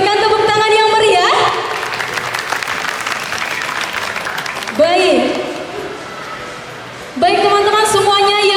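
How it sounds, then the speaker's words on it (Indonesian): Loud audience applause fills the Ciputra World mall atrium in Surabaya as a host is welcomed to the stage, sustained clapping under music with a tonal melody cutting in and out over it. "Bapak Ibu bisa berikan tepuk tangan yang meriah."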